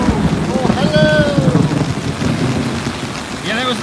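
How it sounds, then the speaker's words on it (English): Rain patters steadily and dull thunder rumbles beneath it throughout, with brief tonal sweeps early on and again near the end. "Yeah, there was the thunder."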